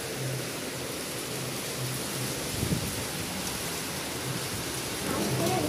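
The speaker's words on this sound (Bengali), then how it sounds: "প্রচুর বৃষ্টি হইতেছে" Heavy rain driven by strong wind makes a dense, steady hiss of downpour that stays loud and unbroken throughout, with a slight swell toward the end.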